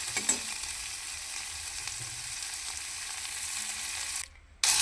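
Steady close sizzle of spices frying in oil in a pan while cooking a Bengali fish-egg dish, continuous and even for several seconds before a brief dip and return.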